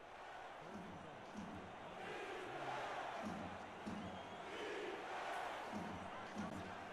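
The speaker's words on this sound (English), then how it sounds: "Crowd on their feet here in Sioux Falls." A football crowd in Sioux Falls stands and cheers, a steady roar with rising whoops and shouts swelling in waves, heard at some distance and fairly faint throughout.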